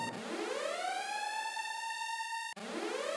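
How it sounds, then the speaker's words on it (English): A siren sound effect used as a trade alert: a loud rising wail that climbs and holds its pitch, then cuts off and restarts with a second rising sweep. "We hit the sirens right there."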